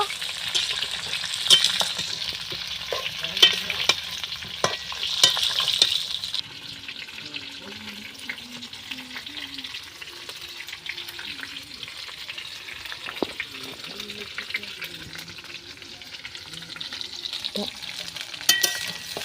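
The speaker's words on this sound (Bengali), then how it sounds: "এবারে খুব ভালো করে আমরা নাড়িয়ে নেব" Mango pieces sizzle and crackle as they are stirred and lightly fried in oil for mango pickle, a steady close frying hiss with scraping stirs, louder in the first few seconds then settling under occasional faint talk.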